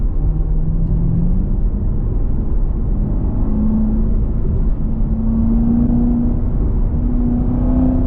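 A supercharged C7 Corvette Z06 engine hums steadily at low revs from the cabin, with a faint rising supercharger whine over a loud, constant engine drone.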